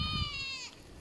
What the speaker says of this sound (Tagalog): Nagtatawag yung kambing.